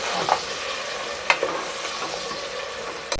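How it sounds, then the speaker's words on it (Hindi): Onions frying in hot oil in a home village kitchen, stirred slowly with a spoon: a steady low sizzle with a few sharp scrapes and clinks of the spoon against the pan, no voices. "ऑयल हमारा गर्म हो गया, इसमें हम प्याज डालेंगे और आस्ता आस्ता चम्मच"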